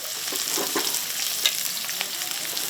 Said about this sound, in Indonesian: Tumis bawang putih, bawang bombay, daun bawang, dan seledri hingga harum